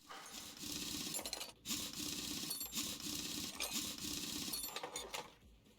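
A wrench in Car Mechanic Simulator loosens wheel bolts with a steady, rapid mechanical whirring. It comes in several long bursts separated by brief pauses and plays close and even, with no talking.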